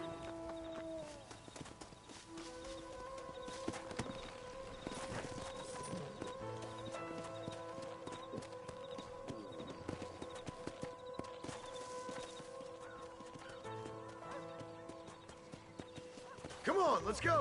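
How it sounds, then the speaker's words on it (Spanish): Horse hoofbeats while riding in the Red Dead Redemption video game: a steady clip-clop trot continues throughout, moderately close, with a brief whinny and game dialogue over it. "Monta en tu caballo."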